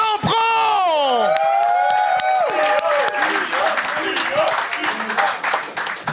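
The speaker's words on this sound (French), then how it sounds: "Applaudissez, tabarnak" A comedy-show audience claps and cheers in a dense, sustained wave while someone shouts over the top at the start.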